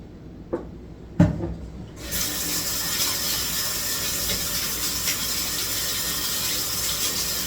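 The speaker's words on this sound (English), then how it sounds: "Just wash my hands." Running tap water in a home kitchen while hands are washed before cooking, a steady broadband rush starting after a couple of faint knocks and continuing evenly throughout.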